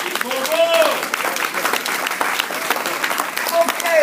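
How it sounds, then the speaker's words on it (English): Audience applause at a celebration of African survival hosted by a UNIA ACL division, a steady clatter of clapping running for several seconds beneath a speaking voice. "please give them a round of applause"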